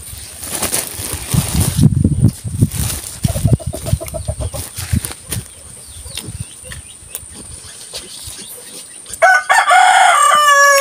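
A rooster crows in a rural yard in Talibon, Bohol, in the Philippines, among clucking fowl, flapping and scattered knocks. A loud, close crow ends the stretch.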